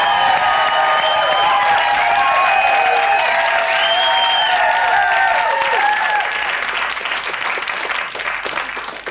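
Studio audience on a British daytime television chat show breaks into loud, sustained applause with some cheering, a dense wall of clapping that holds steady before easing slightly at the end.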